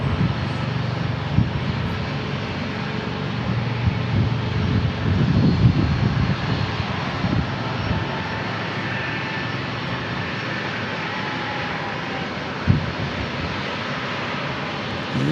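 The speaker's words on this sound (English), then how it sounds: "We got ourselves an Osprey." Military V-22 Osprey tiltrotor engines at San Diego International Airport make a steady, broad roar that swells gently and holds at a moderate distance, with a couple of brief louder bumps and no voices.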